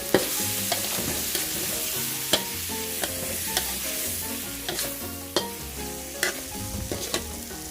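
Sea catfish with torn kaffir lime leaves is stir-fried in a spicy Thai curry stir-fry, a steady loud sizzle punctuated by repeated sharp spatula clacks against the pan at an irregular rhythm, with no talking.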